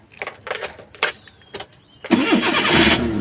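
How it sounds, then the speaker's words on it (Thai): A Datsun 120Y van with automatic gearbox being started: a few short cranking bursts, then the engine catches and settles into a loud, close, rough idle. "เดี๋ยวติดเครื่องให้ดูครับเกียร์ออโต้ด้วยครับคันนี้"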